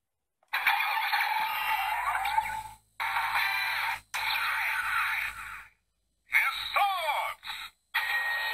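A Bandai DX Drive Driver toy belt plays its electronic Hissatsu standby sound: loud bursts of synthesized tones and jingles broken by short silences, close up and heard alone.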